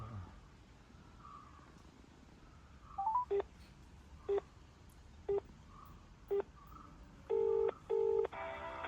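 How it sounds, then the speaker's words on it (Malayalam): A phone dials a number to reach a missed-call motor controller, a quiet series of short keypad tones spaced about a second apart, ending with two longer, louder double tones, against faint background hiss. "അതിനായിട്ട് ജസ്റ്റ് കോൾ ചെയ്യുക അതിൽ കിടക്കുന്ന നമ്പറിലേക്ക്"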